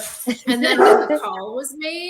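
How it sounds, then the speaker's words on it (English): A dog barks a few times while someone talks over it, the barks close and mixed into excited conversation. "Sorry, that's my dog."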